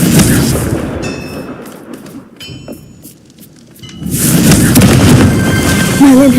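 Confringo fire spell blast in the video game Hogwarts Legacy: loud, rumbling explosive roar that dips into a brief quieter lull before surging back, with faint tonal game effects.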